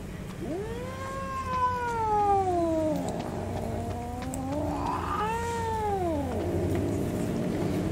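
A cat in the horror video game DreadOut 2 gives two long, drawn-out meows, loud and close, rising and then falling in pitch, with a low steady ambient hum beneath.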